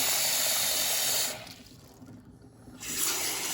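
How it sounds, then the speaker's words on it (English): Water runs steadily from a Delta bathroom faucet being tested after a leak repair, a close hissing stream that cuts off briefly before flowing again. "when we turn the faucet on, we will have water and no leaks"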